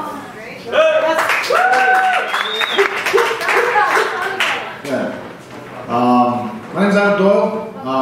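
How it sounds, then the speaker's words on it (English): A small audience at a Ginkgo Coffee performance claps for the sound engineer, a lively burst of close, scattered hand claps mixed with voices and a little laughter, fading briefly before rising again. "Round of applause for the sound guy"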